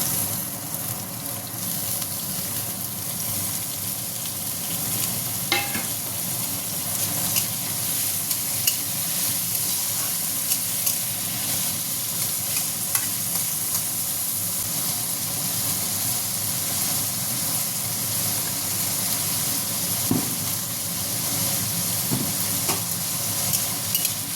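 Finely chopped potatoes sizzle in a pan, a steady frying hiss with intermittent stirring scrapes and small knocks throughout, close and continuous, nobody speaking.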